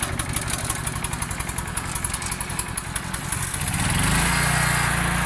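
The engine of an OREC HR802 flail mower runs with a rapid, pulsing small-engine chug, close and loud, then rises into a smoother, steadier roar near the end.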